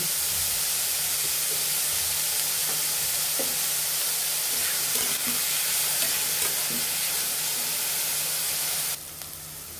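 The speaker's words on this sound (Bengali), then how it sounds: "আমাদের সবজিগুলো ভাজা হয়ে গিয়েছে।" Vegetables fry in a pan for homemade pasta, making a dense, steady hiss and crackle with soft stirring scrapes; near the end the sizzle suddenly flares brighter and louder. No one speaks.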